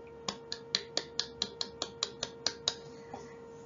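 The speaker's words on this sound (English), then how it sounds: "If you're happy, clap your hands." Hands clap in a quick, even rhythm, about a dozen crisp claps evenly spaced, fairly faint against a quiet indoor background.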